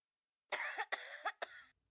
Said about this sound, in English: That was a cough sound effect.